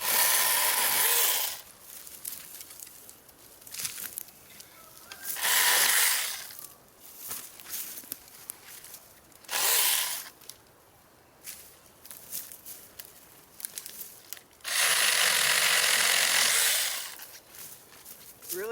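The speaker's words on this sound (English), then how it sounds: "This is great for trimming branches that have grown out of the way." A mini chainsaw trims overgrown branches outdoors in several loud bursts of whining cutting, each a few seconds long, separated by quieter stretches of rustling and footsteps.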